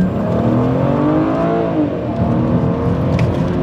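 A BMW 330i E90 with its N52 inline-six engine and automatic gearbox revs hard, a loud, steady drone whose pitch climbs and swells through the whole stretch, heard up close with no talking.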